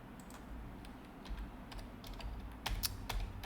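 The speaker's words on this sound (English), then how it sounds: "Help if I could type." Typing on a computer keyboard, a steady patter of light clicks with a few louder key strikes near the end, over a low room hum, no talking.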